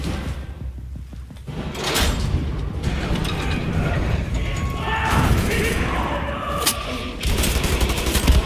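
A shotgun in Wolfenstein: The New Order, during a prison-break level, fires several heavy blasts at irregular gaps amid clanking mechanical and door-like noise, with some faint voice underneath.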